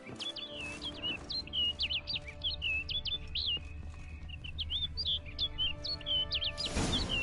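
In The Witcher 3: Blood and Wine, a bird chirps repeatedly in quick, bright phrases over a soft ambient hum, ending in a brief burst of wider noise.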